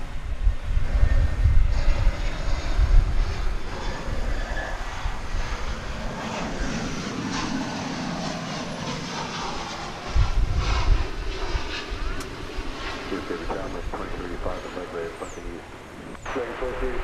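An Airbus A320 arriving from Austin, Texas rumbles at a distance, a low engine roar with wind noise that swells and settles, while a voice talks over it throughout.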